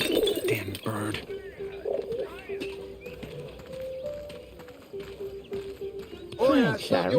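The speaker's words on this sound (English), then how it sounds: "Send the pigeons to Raphael's back" Pigeons in the World War I video game 11-11 Memories Retold give soft, low coos under a steady ambient drone, with clicks and taps and a voice speaking at the start.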